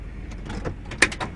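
A van's sliding door rolled and shut after unloading, a soft rumble of the door moving along its track followed by a single sharp latch clack near the end, fairly close over low background noise.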